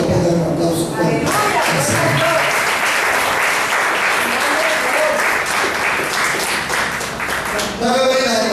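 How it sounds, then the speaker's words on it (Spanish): A church congregation bursts into loud, sustained applause, a thick continuous roar of clapping that holds steady for several seconds before a voice returns at the end. "¿Cuántos pueden dar un aplauso fuerte?"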